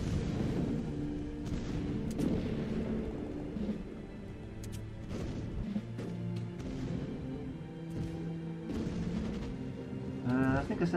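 A fort fires artillery in the strategy game Rise of Nations, with repeated dull booms and bursts scattered across the scene, mid-distance and moderately loud, under someone talking.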